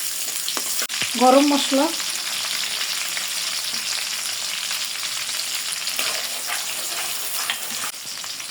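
Chopped onion frying in hot oil for a Bengali mutton curry gives a steady, moderate sizzle throughout. A brief voice is heard early on.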